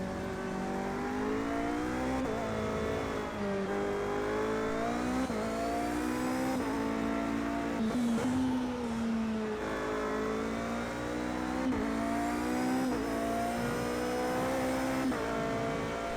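A hybrid endurance race car in a sim racing game at Indianapolis runs flat out, its engine droning steadily loud with rising and falling pitch through gear changes and corners, unbroken throughout.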